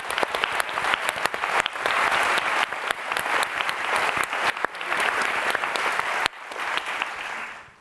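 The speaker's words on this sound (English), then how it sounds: "I think we should give another round of applause to Nikole" A lecture audience at a dialogue event gives a sustained round of applause, dense and fairly loud with crisp individual claps, fading out quickly near the end.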